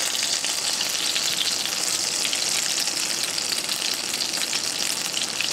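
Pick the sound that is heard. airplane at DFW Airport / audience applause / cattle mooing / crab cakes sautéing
crab cakes sautéing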